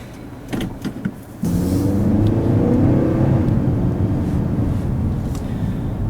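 A 2013 Acura ILX with a 150-horsepower four-cylinder and five-speed automatic starts pulling away, a steady loud rumble and whir building as it accelerates, with faint clicks before it sets off.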